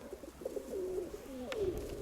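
A pigeon coos softly nearby, a few low warbling, rolling calls in a short sequence, quiet and alone with faint background noise.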